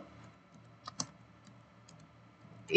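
Keystrokes on a PC or laptop keyboard, a few soft clicks spaced apart with two sharper taps near the middle and a louder knock at the end, quiet and close.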